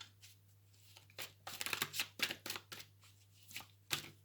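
Tarot cards riffle and slap together in a quick, uneven series of crisp flutters, close and fairly quiet, with a low hum beneath.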